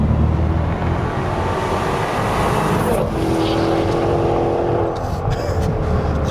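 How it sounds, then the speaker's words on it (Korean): Exhaust of a 2018 Maserati Quattroporte GTS while driving on a winding road, a loud, steady engine drone heard from inside the car, with a brief rising shift midway. "이 박력 있는 그런 배기 사운드가 넘쳐나고 있는데"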